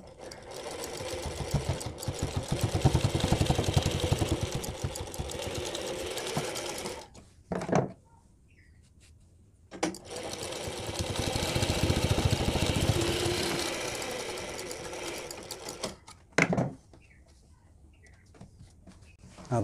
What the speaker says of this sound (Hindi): अब हम यहाँ पर एक सिलाई लगा लेंगे और उसके बाद हम डिज़ाइन में इसे लगाएंगे।